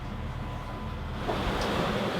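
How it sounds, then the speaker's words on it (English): Pacific Ocean waves washing around a sailing boat far out at sea, a steady broad rush of water and wind with a slightly stronger surge in the second half, no voices. "the waves are coming from opposite directions, so the boat's going like this"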